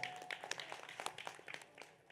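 Audience clapping at an honouring ceremony during a meditation and yoga gathering, a steady patter of many hands heard at a distance, fairly faint, with no voices over it.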